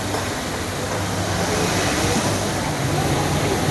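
An indoor waterfall inside a shopping mall pours with a steady, loud rushing wash that continues without break.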